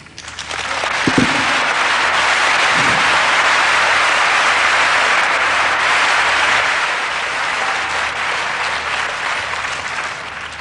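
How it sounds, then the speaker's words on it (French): Loud, sustained audience applause after a religious testimony talk, a thick, even roar of many hands clapping for about ten seconds, easing slightly toward the end. "Tous ces applaudissements"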